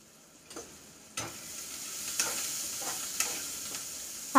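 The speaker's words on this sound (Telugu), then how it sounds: "ఆనియన్స్ ఫ్రై అయిపోయాయి" Onions frying and sizzling in a covered pan on the stove, a steady low hiss broken by a few sharp stirring knocks and lid clatters, close and moderately loud with no one talking.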